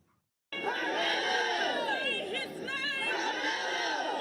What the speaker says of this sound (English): Supporters poured out of the courthouse cheering and gathered.